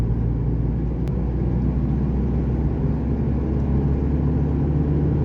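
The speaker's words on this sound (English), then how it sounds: "you can even hear small hints of a turbo diesel." A steady, low turbo diesel engine rumble from a 2012 Isuzu KB300 LX D-Teq pickup drones at close range without a break, broad and even throughout, with no clear revving.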